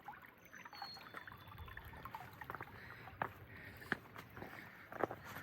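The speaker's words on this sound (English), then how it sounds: "Nice little creek coming down." Small creek trickling down over rocks on a hiking trail, a soft, continuous outdoor babble of running water with a few sharper splashes and footsteps nearby.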